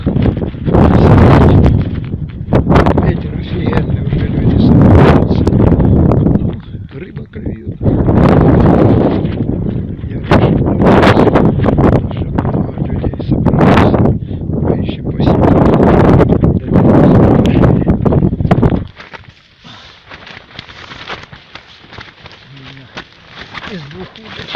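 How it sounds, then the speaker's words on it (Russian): Strong gusting wind on a frozen lake during winter ice fishing roars into the microphone in loud repeated bursts, easing to a quieter whoosh toward the end, with someone talking in between gusts. "Ветер офигенный"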